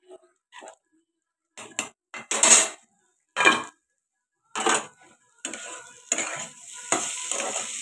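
Potatoes frying in oil in a home kitchen, heard as intermittent scraping stirs and short sizzling bursts, growing steadier toward the end, close by with no talking.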